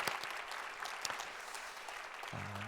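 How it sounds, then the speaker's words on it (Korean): A church congregation at a Sunday worship service bursts into short, dense applause. The clapping is close and lively, and a low voice starts speaking near the end. "한번 격려 박수 한번 보내주시죠"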